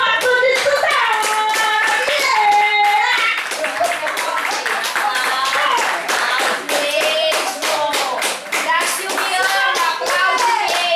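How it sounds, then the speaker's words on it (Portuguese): An audience claps as a vote during a live show, with rhythmic, energetic clapping under loud, excited voices and shouting, close and continuous. "Votação de palmas para o voto de Suzana!"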